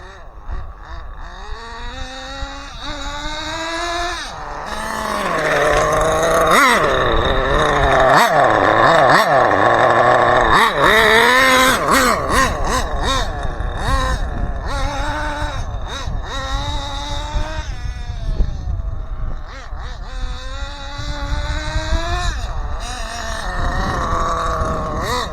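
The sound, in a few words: nitro 1/8 RallyX Probe VXI RC car engine running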